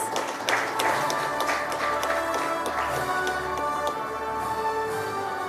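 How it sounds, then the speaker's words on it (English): Applause from an audience at an industry meeting on coal and lignite gasification as a bank general manager is called to the dais; steady dense clapping fills the whole stretch at moderate loudness. "A big round of applause, please"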